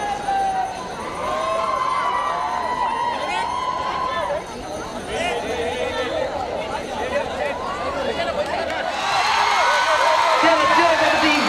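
Crowd at an inter-college sports meet in Mangaluru cheering for competing college teams, with continuous whoops, shouts and chatter that swell louder near the end.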